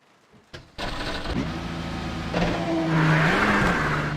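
A Ferrari race car in the iRacing simulator, on a wet track, fires up and revs, its engine note rising through sharp, loud gear changes into a sustained high whine.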